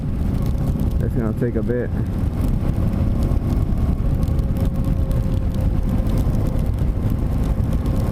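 A BMW G650GS motorcycle cruises down a Texas-to-Florida highway, its steady engine drone and heavy wind rumble constant and loud, while a rider speaks briefly over it.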